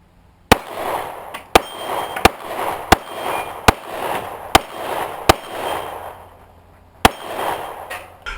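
Close pistol shots from an S&W CSX E-Series and a Kimber CDS9 ring off steel plates: eight sharp reports at uneven spacing, each followed by a bright metallic ping, with a longer pause before the final shot.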